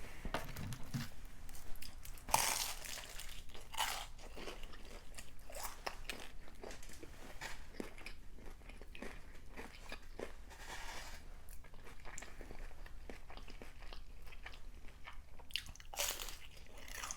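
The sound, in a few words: crunchy Vietnamese egg rolls being bitten and chewed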